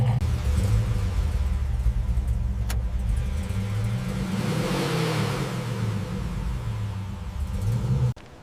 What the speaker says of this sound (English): Gleaming exhaust pipes rumble deeply, a powerful muscle car sound